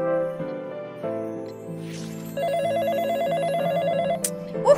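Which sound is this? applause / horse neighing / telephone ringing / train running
telephone ringing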